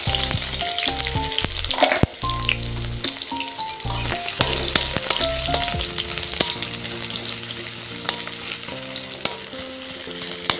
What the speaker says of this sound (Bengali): এবার দিয়ে দেবো তেলের মধ্যে কয়েকটা রসুন কো আর পেঁয়াজ